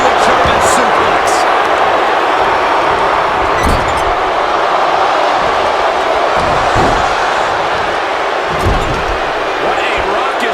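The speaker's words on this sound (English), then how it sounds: "What a raucous crowd here tonight." A loud WWE 2K25 wrestling arena crowd roars continuously through a WrestleMania match, a dense wall of cheering with scattered thuds from the ring.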